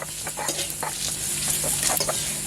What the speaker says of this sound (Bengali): তো ভ্যান্নাটা ভাজা হচ্ছে